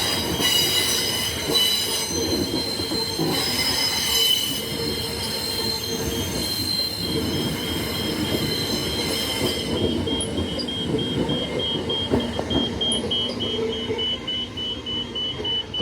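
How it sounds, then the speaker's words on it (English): A Fremantle line train passes McIver Station with loud, sustained wheel squeal ringing over steady rumbling and clatter from the railcars, the screech fading toward the end with no talking. "Another Fremantle train."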